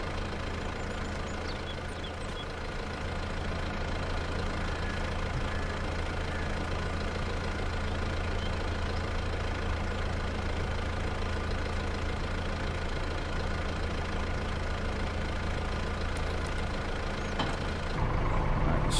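Tractor engine in Farming Simulator 22 idling on a farm map, a steady loud mechanical chug with a constant low throb, unchanged for most of its length before a brief rise in level near the end.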